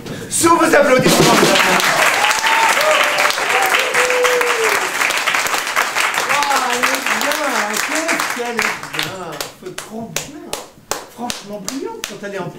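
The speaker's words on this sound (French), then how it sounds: "Sous vos applaudissements." An audience breaks into loud, full applause that holds for several seconds, then thins into scattered individual claps, while voices talk over it throughout.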